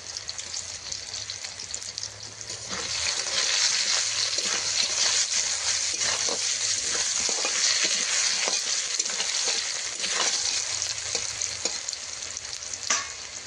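Potato pieces seasoned with turmeric and salt fry in hot oil in a pan, a dense continuous sizzle that swells after a quieter start, with occasional stirring scrapes.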